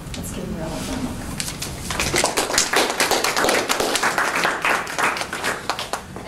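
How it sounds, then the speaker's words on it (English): An audience at a feminist research lecture breaks into applause for the speaker, with dense, rapid clapping that swells to full volume after a quieter start and carries on steadily to the end. "Let's give Mirela a round of applause."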